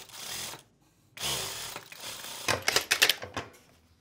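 Sewing machine stitching satin fabric blocks for a patchwork stole, heard as a close, loud run of rapid mechanical stitching bursts with short pauses between them.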